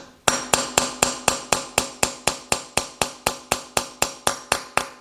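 A hammer taps a part into the engine block of a 2006 Kia Sportage 2.7 in a steady, even rhythm, about four sharp ringing strikes per second, close and clear with no talking.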